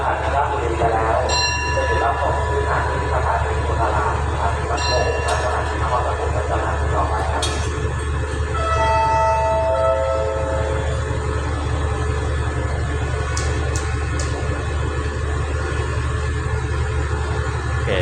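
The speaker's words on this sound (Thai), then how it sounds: "ตอนนี้ขบวน 170 ก็ออกจากสถานีราชบุรีแล้วนะครับ" Train 170 pulls out of Ratchaburi station in Thailand with a steady, loud rumble of rolling rail cars, while someone talks nearby.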